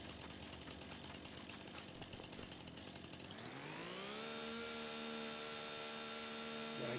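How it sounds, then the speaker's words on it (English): A chainsaw in the Farming Simulator 25 video game, forestry setting, revs up from a rough idle into a steady high-pitched whine that holds loud and close to the end. "I do not like the new chainsaw sounds."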